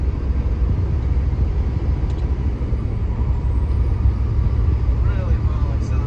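A Glider semi truck on Interstate 80 accelerates steadily, its engine a continuous low drone under road and wind noise inside the cab, with no vibration or rattle.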